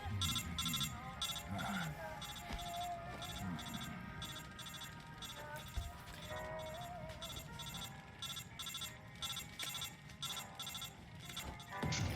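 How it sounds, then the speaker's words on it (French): A telephone rings in Metal Gear Solid 3: Snake Eater as a rapid, repeating electronic trill in regular bursts, fairly loud over game sounds, with someone talking over it at times. "Oh, mais encore le téléphone."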